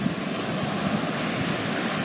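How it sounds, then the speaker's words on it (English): Steady surf washes onto the beach beside a house in Flagler, a continuous, fairly loud roar of waves with wind noise and no talk. "I don't remember if the waves were coming up this high in the Sting or not"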